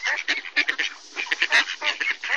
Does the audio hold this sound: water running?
no